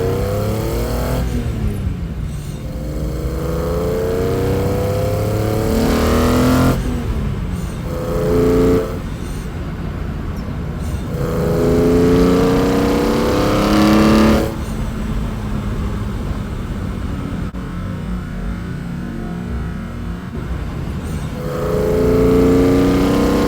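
BMW E46 M3 with a CSL intake accelerating hard on a mountain road, the engine rising in pitch through several gear pulls, each climb broken by a brief shift gap. The note is loud, close and continuous, with no talking.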